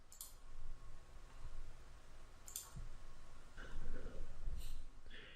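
A few sharp, quiet computer mouse clicks are spaced out over a soft room hiss, close up with long pauses between them.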